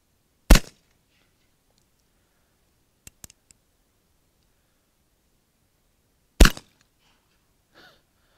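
Two sharp, loud revolver shots from an Uberti 1862 Pocket Police, about six seconds apart, with faint clicks between them.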